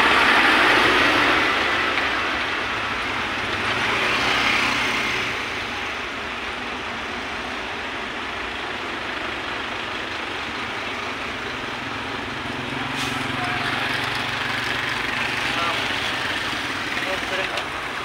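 Heavy, congested traffic in Baseco gives a continuous low engine rumble and idling drone that swells and eases gently, with people talking over the steady background.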